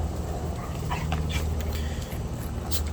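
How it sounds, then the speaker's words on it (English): Dogs left outside whimper and yip steadily beneath a constant noisy hum, their thin cries rising in short bursts from a little distance away. "my dogs are outside causing a mess"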